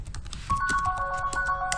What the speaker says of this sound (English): My phone again.